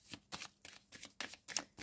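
Petit Lenormand cards shuffled for a reading, a run of soft papery riffles in quick, regular bursts, close and fairly quiet with no voice over them.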